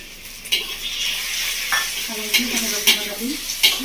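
Tomato, onion and green chili paste frying in a pan for village-style Bengali chicken ghugni, with a steady sizzle and several distinct stirring scrapes and clinks of a utensil against the pot, close and fairly loud.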